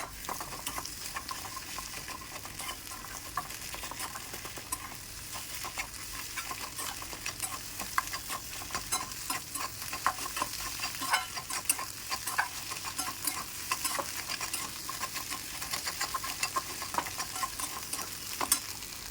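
Eggs roasting in a frying pan for an egg masala, a steady dense sizzle with frequent scraping stir clicks throughout, close and continuous with no voices.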